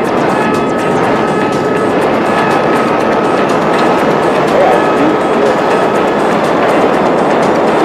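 Jet aircraft engine in GTA V, a steady loud broadband roar held throughout with a faint tonal whine on top and no clear speech.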